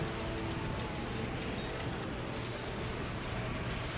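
Steady, dense rain hiss fills the scene in Death Stranding 2, an even wash of falling rain without breaks or distinct drops.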